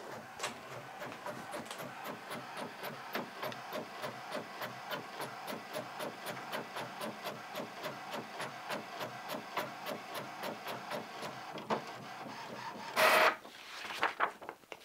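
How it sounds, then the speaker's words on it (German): A printer runs steadily, printing in colour onto thick photo paper with a rapid rhythmic mechanical clatter of the print head, ending in a louder feed and ejection burst. "ausdrucken in Farbe, noch schön ein Fotopapier oder dieses dicke Papppapier"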